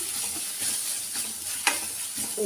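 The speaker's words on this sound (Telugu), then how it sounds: "ఇంకా బోన్స్ లేకుండా ఉండేవన్నీ ఫ్రై చేసేస్తాను." Mutton pieces frying in a pan for mutton sherva: a steady close sizzle and hiss with soft stirring scrapes and one brief sharp clink.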